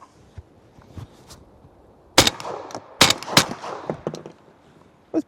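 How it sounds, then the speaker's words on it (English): A suppressed GForce Refuge semi-automatic shotgun fired with a YHM Victra-20 suppressor lets off three sharp, muffled reports in quick succession, each ringing briefly, then a fourth snap follows after a quiet gap. "I want to shoot that semi-automatic GForce, see if we could break that thing, see how quiet it is"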